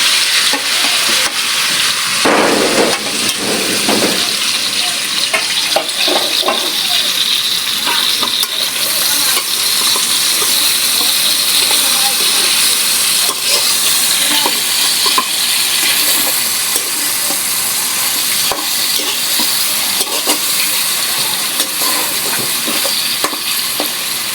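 Tuna steak sizzling in a pan, with a loud, steady hiss and crackle that runs unbroken throughout, along with occasional stirring and clinking sounds.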